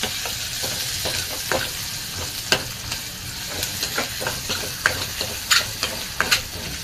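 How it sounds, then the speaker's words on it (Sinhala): Garlic stirred and frying in a pan, with a steady broadband sizzle and scattered sharp scrapes and clicks of the utensil against the pan, close and alone. "එකට සුදු ලුණු මේ ටික එකතු කරලා පොඩ්ඩක් කලවම් කරගන්නවා."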